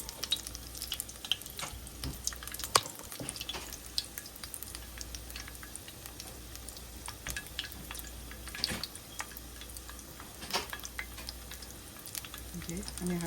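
Cauliflower florets fry in hot oil, a steady crackling sizzle with bursts of sharp pops and spatters running throughout, close and continuous with no talking.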